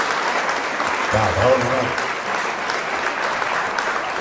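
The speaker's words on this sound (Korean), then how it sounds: "박수 좀 크게 쳐요." Audience applause at the first Taebaeksan azalea song festival, continuous outdoor clapping from a crowd, with a voice briefly speaking over it near the middle.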